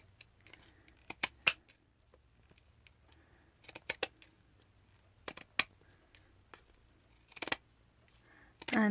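Scissors snip a lace doily stretched in an embroidery hoop, producing sharp, close, irregular cutting clicks in small clusters with quiet rustling between them.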